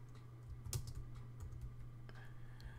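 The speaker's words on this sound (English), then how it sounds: "I want to type in a student's name" Keys clatter faintly on a computer keyboard as a student's name is typed, a short run of quiet, irregular taps over low background hum.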